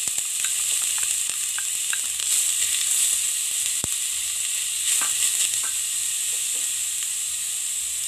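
Carrot and grated beet stir-fried in oil with cumin and bay leaf, a steady close sizzle and crackle running throughout with scattered sharper pops and a few spatula scrapes.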